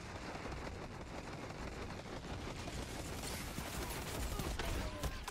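Cerberus auto rifle fire in Destiny's Iron Banner mode, a dense, steady stream of rapid shots that runs unbroken and fairly loud, without talk over it.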